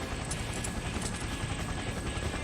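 A helicopter descending toward a rooftop in the video game Persona 4 Arena Ultimax gives a loud, constant rotor roar with fast, even blade chopping throughout, heard alone without voices.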